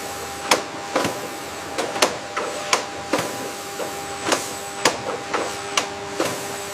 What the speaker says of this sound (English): Utilizing precise vacuum suction,